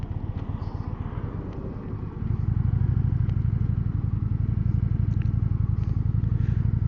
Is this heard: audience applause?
no